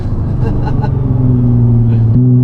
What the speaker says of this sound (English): the central pipe is not attached properly to the muffler, and this car is stupidly loud all the time